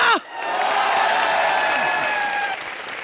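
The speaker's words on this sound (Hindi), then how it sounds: "जूही चावला यहाँ जोरदार तालियां।" A studio audience at a live comedy show claps for actress Juhi Chawla, a dense, loud burst of applause that swells in after a brief voice and holds steady for nearly three seconds with some cheering.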